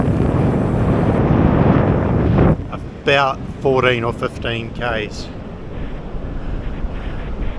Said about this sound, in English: It's a strong crosswind would be my description coming from the ocean.